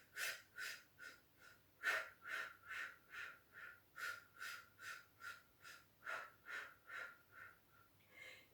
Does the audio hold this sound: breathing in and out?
yes